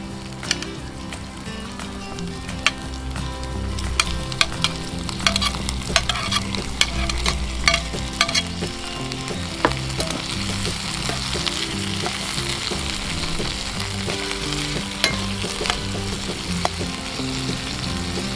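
Tomatoes and garlic fry steadily in a pan for a spicy Indonesian sambal, a continuous close sizzle with scattered stirring scrapes and pops throughout, no talk.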